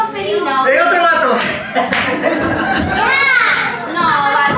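A children's audience at a clown show claps and cheers, with lively young voices and chatter mixed into the applause. Close, busy and fairly loud throughout, with excited kid shouts rising above the clapping.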